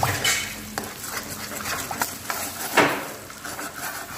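A utensil stirs an egg mixture in a pan with assorted scraping and clinking, plus a soft background sizzle, close and moderately quiet.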